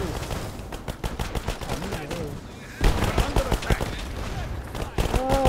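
Rapid bursts of machine-gun and rifle fire from a World War II strategy game, War Alert WWII, sharp repeated shots in dense volleys with brief lulls, mixed with faint voices.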